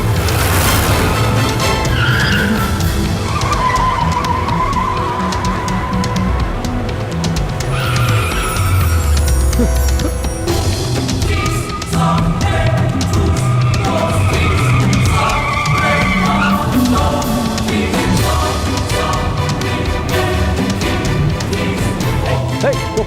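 Cars race through a movie car chase, tyres squealing and skidding under roaring engines and a steady music-and-effects bed, loud and continuous with no clear speech.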